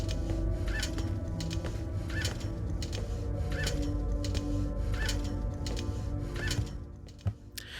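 In the crow room of the video game Indigo Prophecy, birds squawk in a steady, repeating rhythm over a constant low hum, with no one talking.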